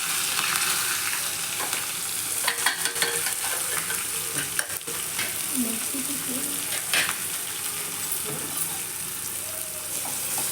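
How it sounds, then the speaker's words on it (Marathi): Green chillies, curry leaves and onion hit hot oil for a tempering, sizzling and crackling loudly and steadily close up, with occasional stirring clatter and sharper pops throughout. "मिरची 3 ते 4 मिरची आणि हा तडका असा तो द्यायचा."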